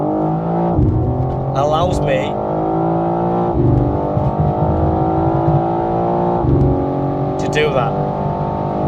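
A BMW M4 Competition M xDrive accelerates to overtake a lorry, its engine droning loudly with pitch that rises and then resets at each gear change, while the driver talks over it from inside the cabin.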